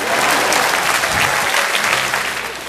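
A studio audience at a Chinese dating show claps together, a dense close burst of applause that swells and then tapers off slightly over under three seconds.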